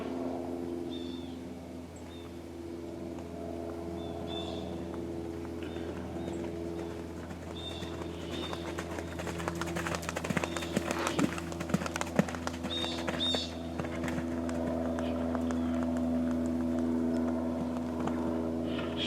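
A horse moves around an arena at a riding clinic, its hoofbeats coming as scattered soft thuds and clip-clops at a moderate distance over a steady low hum, with brief faint sounds from people.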